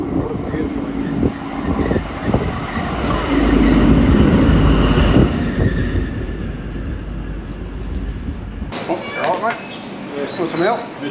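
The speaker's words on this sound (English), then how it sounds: "That V12, mate. What a beautiful engine." An NSW TrainLink XPT with a V12 diesel engine rumbles and roars loudly nearby, swelling in the middle, then cuts off abruptly as a voice takes over.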